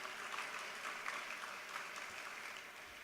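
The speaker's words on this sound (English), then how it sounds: "Clap for that." An audience at a city State of the City address applauds, a steady broad patter of many hands heard from a distance, fairly faint and continuous without speech.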